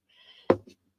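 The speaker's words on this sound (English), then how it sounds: "I get a sneeze." A single sharp sneeze bursts out loud and close from a woman after a faint breathy intake, with a small trailing sound just after.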